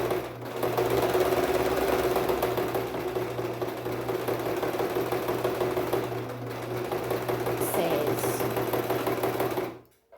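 A sewing machine runs in reverse for a few stitches, then forward again, a steady close mechanical whirr with rhythmic needle chatter that holds for nearly ten seconds before stopping abruptly.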